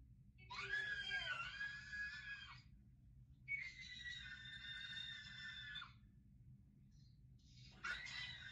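A child screams in three long, shrill bursts close by, separated by short pauses, over a low steady background hum.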